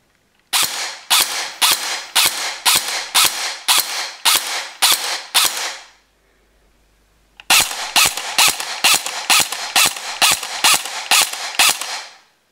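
An Elite Force 4P airsoft pistol fires in rapid, sharp cracking shots with blowback clatter, one string of about a dozen, a pause, then another similar string, close and loud.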